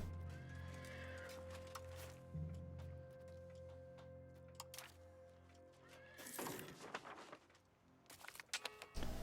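Horses whinny and neigh over a steady game soundtrack in Europa Universalis V, with hooves clip-clopping; a loud burst of neighing and clatter rises near the end.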